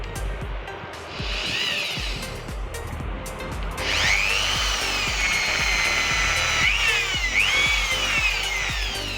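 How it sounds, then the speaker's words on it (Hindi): A power drill bores holes in a homemade electrical extension board, its whining motor spinning up sharply in two long bursts after a brief, quieter first pass, close and loud over faint scraping. "बट यहाँ पे हम ड्रिल मशीन की हेल्प लेके ही इस तरह के होल्स बना रहे हैं"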